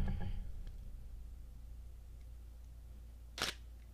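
A single crisp shutter click from a Nikon 1 mirrorless digital camera, sharp and close near the end, after a faint click earlier over a quiet low room hum.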